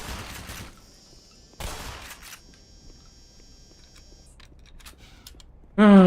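Gunfire in Black Mesa: a few sharp, close shots in short bursts, separated by quiet gaps with a faint mechanical tone, ending in a louder burst as a voice cuts in.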